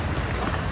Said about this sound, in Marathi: मस्त पाऊस लागला मस्त खूप भिजला